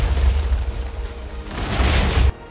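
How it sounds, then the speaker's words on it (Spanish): A block-destroying explosion in Minecraft, a deep, heavy boom rumbling for a couple of seconds before cutting off abruptly, loud and close with no talk over it. "como habéis visto, pues ha habido una explosión"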